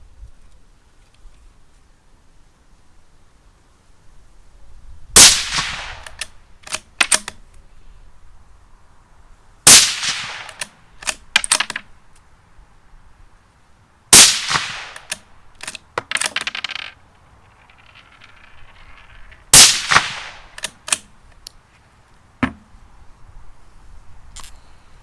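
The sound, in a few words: CZ Brno 527 .222 rifle being fired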